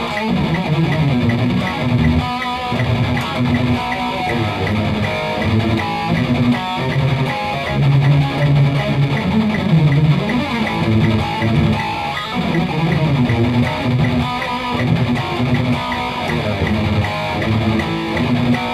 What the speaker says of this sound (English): A fierce Euro metal groove.